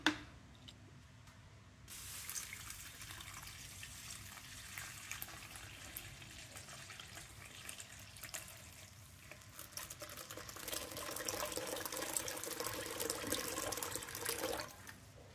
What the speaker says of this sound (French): on ajoute les 65 centilitres d'eau à température ambiante